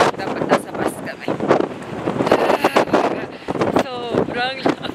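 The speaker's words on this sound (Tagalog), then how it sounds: "Sobrang lamig kasi ng hangin." Gusty cold wind blasting against the microphone in uneven bursts while people talk nearby, outdoors in Tokyo in December.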